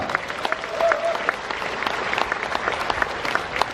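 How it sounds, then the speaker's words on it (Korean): Applause at the opening ceremony of the Jecheon Oriental Medicine Bio Industry Expo, a lighter patter of clapping in a large space where individual claps stand out sharply, moderately loud and continuous for a few seconds. "박수 한번 크게 좀 쳐주시기 바랍니다"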